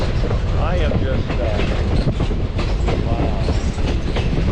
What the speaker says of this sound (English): cruising along on the Alaska Railroad